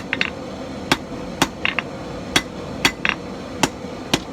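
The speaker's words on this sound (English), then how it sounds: "once I got the taper where I like it, I'll just turn it around, start forging out the tail." A hammer strikes a steel wood rasp as a snake's tail is forged from it. The sharp metallic blows land at uneven intervals, about ten in four seconds, close and ringing, with no talk.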